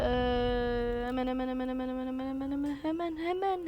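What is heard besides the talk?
No everyday noises stand out.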